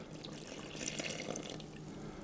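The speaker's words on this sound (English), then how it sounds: "Then I'm going to pour the water" A steady, faint stream of water is poured into flour for croissant dough, a soft continuous splashing hiss with no talk over it.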